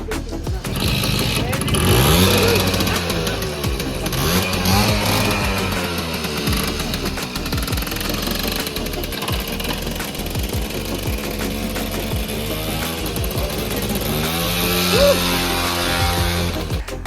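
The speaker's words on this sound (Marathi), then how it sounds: "पहिल्यांदा मी आपल्या या बाईकचा आवाज ऐकणार होतो" A two-stroke Bajaj M80 motorcycle engine, newly restored, runs steadily and loudly nearby, its buzzing note rising and falling with the throttle, with voices faintly underneath.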